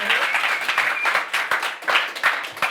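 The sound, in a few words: studio audience applause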